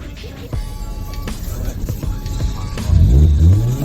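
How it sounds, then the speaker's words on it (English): Car engine at a car show revved hard, starting with idle rumble and light knocks, then climbing into a loud, rising rev burst near the end. "I might give this car a rev just before I go"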